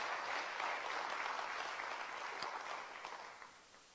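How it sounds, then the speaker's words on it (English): An audience at an academic symposium gives a round of applause, soft and somewhat distant, a steady patter of many hands that fades out over the last second. "Let's give the School of Education a round of applause."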